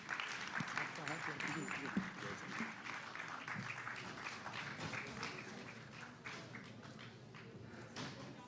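A seated audience at a book discussion applauds with sustained dense clapping that slowly thins out and fades over several seconds. Some voices murmur underneath.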